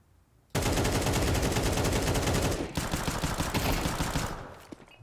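Sustained rapid gunfire in Counter-Strike during an ESEA League match, a dense continuous burst of automatic shots that starts abruptly, stays loud for several seconds, then thins into separate shots and fades.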